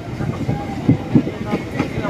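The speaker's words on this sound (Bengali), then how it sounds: "মুর্শিদাবাদ জংশনের 1 নম্বর প্ল্যাটফর্মে ট্রেন এখন ঢুকলো" A train rolls into platform 1 of Murshidabad Junction on an inaugural Azimganj–Cossimbazar run. Rhythmic wheel clacks thump past at a steady pace while people talk nearby.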